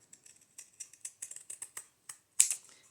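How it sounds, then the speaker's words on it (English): Scissors snip through an upholstery fabric scrap in a quick series of short, crisp cuts, close and quiet, ending with one sharper, louder snip. "Just want to cut right here"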